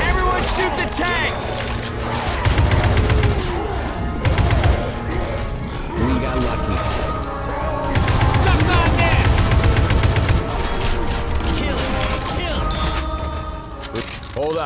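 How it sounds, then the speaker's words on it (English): Rapid gunfire in Left 4 Dead 2 pours on the Tank in a snowy map, loud dense bursts of automatic shots in waves with brief pauses between them. "Everyone shoot the tank."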